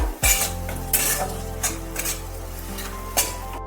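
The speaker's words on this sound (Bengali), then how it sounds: "এবার আমি মশলাগুলোকে ভালো করে কষিয়ে নেব।" Spices with tomato paste and red chilli powder stirred and fried in a pan while making jackfruit curry, a spoon scraping and clanking against the metal repeatedly over a steady sizzle, close and loud with no talk.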